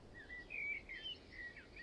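Birds chirp and sing as ambient wildlife in the online game Wurm Online, several faint high tweets scattered over a quiet background with no talking.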